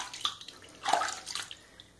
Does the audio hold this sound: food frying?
no